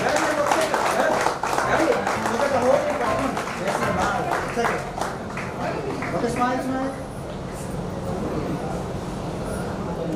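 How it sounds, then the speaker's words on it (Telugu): An audience at a school batch reunion party claps for the teachers, a dense patter of many hands. The applause is heard under a voice speaking loudly over a microphone. "మనం కూడా గట్టిగా చప్పట్లు"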